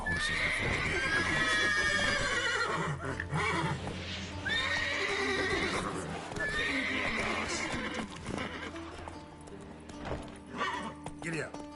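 Horses in The Witcher 3 neigh and whinny loudly several times, with clip-clopping hooves and stamping beneath, while someone talks over the commotion.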